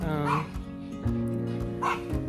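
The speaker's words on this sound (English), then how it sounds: "my dog is barking at someone that is running down the road." A dog barks and whines in short bursts at a runner on the road, a few yelps close by, with steady low background noise throughout, outdoors in a garden.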